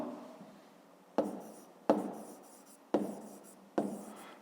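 A pen scratches across paper while working a fifth-grade maths exercise, with four separate quiet strokes, each a brief rasp fading out, close and with no talking.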